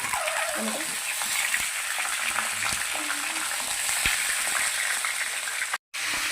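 Chicken pieces frying in a pan with whole spices, a dense, steady sizzle close up, with occasional clinks and stirring scrapes and a brief cut near the end.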